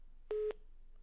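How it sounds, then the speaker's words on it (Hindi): A single short electronic telephone tone sounds cleanly for about a fifth of a second as a call disconnects, followed by quiet. "फोन डिस्कनेक्ट हो गया है।"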